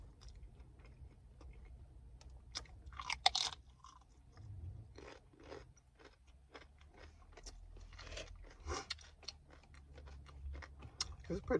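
Taco Bell nachos with spicy jalapeno cheese sauce are chewed and crunched up close. Irregular crisp bites and wet chewing run throughout in a quiet setting.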